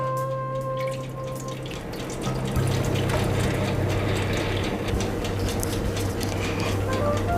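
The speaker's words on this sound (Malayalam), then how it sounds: "ഈ ട്രേയിലേക്ക് നന്നായി ചൂടാക്കിയ വെള്ളം ഒഴിച്ചു കൊടുക്കണം." Hot water pours steadily into a shallow metal baking tray for a cheesecake water bath, a continuous splashing stream that grows fuller and louder, with a low hum underneath.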